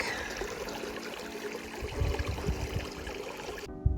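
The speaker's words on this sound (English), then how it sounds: "Another sweet little creek as we wander around the lake." A small creek flows near a lake in the Nevada backcountry, giving a steady close trickle and babble with a few low thumps, cutting off sharply near the end.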